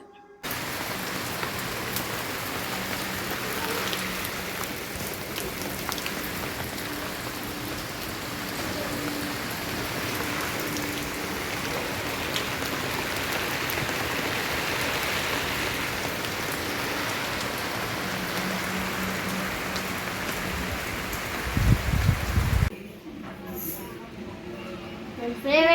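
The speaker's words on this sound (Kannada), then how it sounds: "ಬೆಳಗ್ಗೆನೇ ಮಳೆ ತುಂಬಾ ಮಳೆ ಇದೆ" Heavy rain falls steadily in a continuous dense hiss of drops on surfaces, with faint voices near the end before the sound cuts off.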